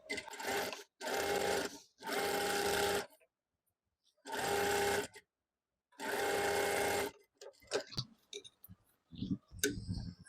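A sewing machine stitches a trouser strip in five separate bursts of rapid, loud mechanical clatter with short silent pauses between them, followed by quieter handling clicks and rustles.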